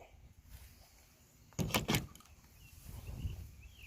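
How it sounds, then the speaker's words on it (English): A work van's sliding side door rolls along its track in a short burst of metallic rattling and clunks, fairly close, followed by quieter shuffling and handling noise. "This is the side view of my slider door."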